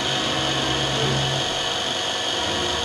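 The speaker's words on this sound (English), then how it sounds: "Press the electric mounting button to start the drill engine." CT 5412 automatic lens drilling machine with its drill engine running, a steady loud mechanical whine and hum with a constant tone throughout, close and unbroken.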